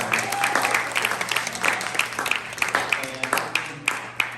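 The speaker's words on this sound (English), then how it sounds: "It's okay to clap for her, always." An audience claps at a community honoring ceremony in North Richmond, a moderate, uneven patter of hands with louder individual claps standing out, while a voice carries faintly underneath.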